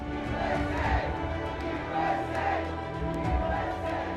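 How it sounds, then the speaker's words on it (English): A large crowd cheers and calls out to welcome arriving veterans on an Honor Flight, a wall of voices filling the space in a continuous roar with occasional louder swells. "When they round that corner, they hear the crowd."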